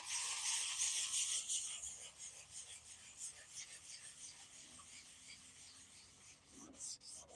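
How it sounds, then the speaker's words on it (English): Sandpaper rubs by hand across an old oak dresser in soft, close back-and-forth strokes, louder at first then settling into quieter, uneven passes, with faint breathy whispering. "Do a little sand in here."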